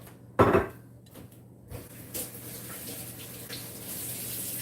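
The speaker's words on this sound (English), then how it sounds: "I'm going to go rinse my hands off" Running water from a kitchen tap while hands are rinsed, a soft steady splash with a brief clatter of dishes at the start, fairly quiet and with no talking.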